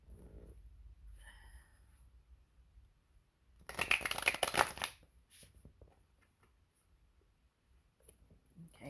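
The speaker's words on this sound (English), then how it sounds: "Let me see the tarot on that." Tarot cards are shuffled in one brief, dense burst of riffling and rustling paper near the middle, with quiet pauses before and after.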